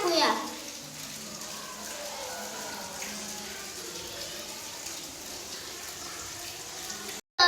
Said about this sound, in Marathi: दुसऱ्या ग्लास मध्ये पावसाचे साठलेले पाणी टाकू